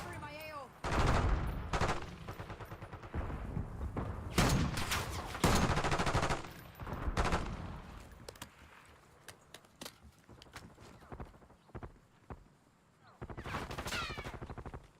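Bursts of automatic gunfire from a buffed weapon in an online shooter, loud rapid volleys separated by short pauses, with a person talking between the bursts.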